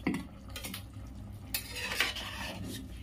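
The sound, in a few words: opening pot lid and stirring chicken stew in pan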